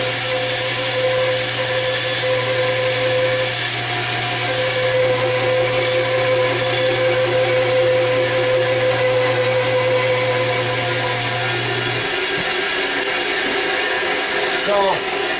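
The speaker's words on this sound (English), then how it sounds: "So we're going to go to the bandsaw," A bandsaw runs steadily, cutting a spalted wood blank about eight inches long in a woodturning shop, a loud constant motor drone with blade noise that cuts off near the end.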